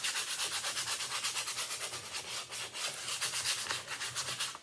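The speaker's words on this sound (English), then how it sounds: "you're gonna take your sandpaper and you're gonna sand your heart." Sandpaper rubbed by hand over a wooden heart craft piece, a close, loud run of quick back-and-forth scratchy strokes in a steady rhythm, with no voices.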